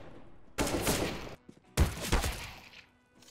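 Counter-Strike gunfire rips out in two loud, close bursts of rapid shots separated by a brief pause, with no talking.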